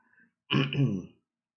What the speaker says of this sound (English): I seem to be coughing tonight quite a bit